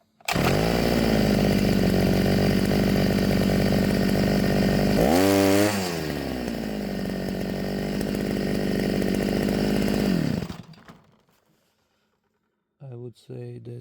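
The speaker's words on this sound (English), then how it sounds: "So let's try to start it again while it's hot." Gas grass trimmer engine, restarted while hot after repair, starting abruptly and running loud and close with a high buzzing whine, revving up briefly mid-way, then dying away, followed by a short burst as it fires again.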